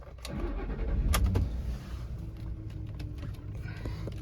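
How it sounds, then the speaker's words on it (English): A 2006 Lincoln Mark LT truck engine with 181,000 miles cranks and catches with a loud burst, then settles into a steady, rumbling idle close by. "Let's crank her up, see how she runs."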